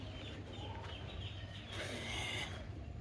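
Chickens cluck faintly near a village coop where ducks and hens are kept at night, soft scattered calls over a steady low outdoor background.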